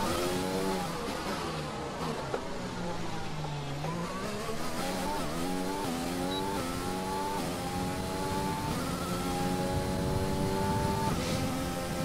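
Formula 1 car engine in the F1 2020 racing game at Spielberg, Austria, during qualifying: a steady, loud high-pitched howl rising and falling through gear changes, running continuously without talk.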